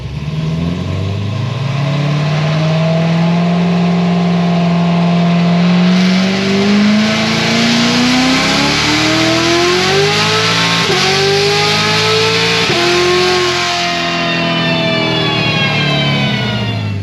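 A supercharged Chevrolet Corvette C7 Z06 with a cam and ported blower revs hard through a long dyno pull, its loud engine note climbing steadily in pitch and wavering near the top before easing off.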